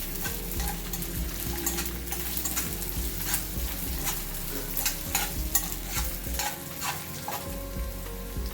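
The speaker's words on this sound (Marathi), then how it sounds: "याच्यामध्ये आपल्याला लसूण घालायचं आहे आलं घालायचं आहे दोन तीन मिनिटे हे आपल्याला परतवून घ्यायचं आहे" Onion, garlic and ginger sautéing in a pan, with a steady close sizzle of frying and repeated scraping strokes of a spoon stirring throughout.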